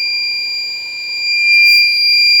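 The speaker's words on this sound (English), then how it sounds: "Now I think it is beeping." A steady, continuous electronic warning tone from a repaired PowerBright 1500-watt pure sine inverter under a 1200-watt heater load sounds loudly and unbroken, two high pitched pure tones holding throughout with no talking.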